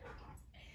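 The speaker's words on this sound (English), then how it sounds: "This dog won't leave me alone." A dog whimpers and gives short yips close by during excited zoomies, soft and brief, with a person talking alongside.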